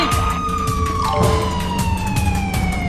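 A police siren wails loudly and continuously in a Roblox video game, its rising and falling tones sweeping close and dominant over game noise, with no talking.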